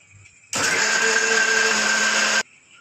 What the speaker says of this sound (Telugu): కొంచెం వాటర్ వేసుకొని మిక్సీ చేసుకుందాం.